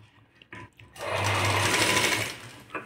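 A sewing machine stitches a blouse neck, a steady close mechanical whir running for about two seconds after a few soft handling clicks.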